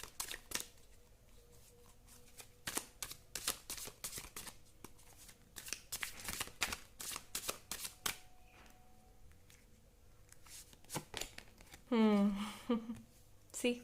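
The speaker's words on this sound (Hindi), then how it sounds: "एक बारी मैं शफल कर लूँ कार्ड्स।" Tarot cards being shuffled by hand, repeated crisp riffling and flicking bursts, close and soft, followed by someone speaking near the end.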